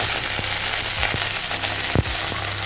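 Curry leaves frying in hot oil with green and dried chillies, a loud, continuous sizzle with sharp crackles and pops scattered throughout, close up with no talking.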